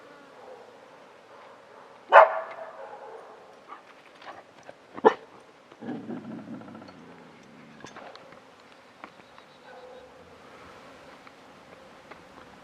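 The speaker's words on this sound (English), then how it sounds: "Dogs barking in the distance." A few scattered dog barks sound from far off, faint against a quiet outdoor background near a beehive yard with a low buzz of insects.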